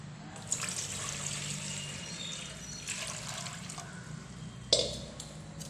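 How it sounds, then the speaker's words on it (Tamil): Water is poured over salted brinjal in a kitchen, giving soft, close trickling and splashing with a few sharper splashes and knocks, and no talk over it. "தண்ணி ஊற்றுறேன் நான்."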